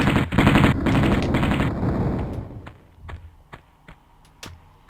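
Enemy gunfire in the Atlantis level of Tomb Raider on the Sega Saturn: a loud dense burst of rapid shots for about two seconds, then several sharp isolated shots spaced apart as the din fades.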